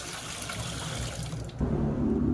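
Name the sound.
washing machine drum filling with water for soaking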